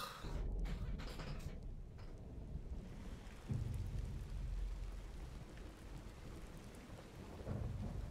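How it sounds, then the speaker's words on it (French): Rain falling in a Squid Game episode, a steady hiss of downpour with low rumbling thunder swells underneath, moderately quiet and continuous without speech. "il a fallu qu'il mette de la pluie pour l'ambiance"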